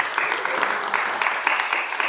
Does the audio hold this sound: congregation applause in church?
yes